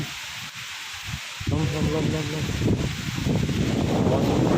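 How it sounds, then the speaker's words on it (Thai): Wind sweeps through a rubber plantation on a day when the weather turns from rainy to cool season, starting calm and then rising into a loud, steady rush of blowing air and rustling leaves. "ลมพัดเข้ามา"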